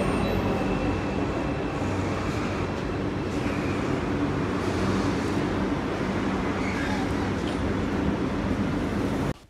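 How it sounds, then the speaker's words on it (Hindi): A train pulls into a station platform on a day trip, a loud continuous rumbling roar of rolling wheels and engine noise that holds steady and close throughout, then cuts off abruptly at the end. "तो अभी ट्रेन आने वाली है।"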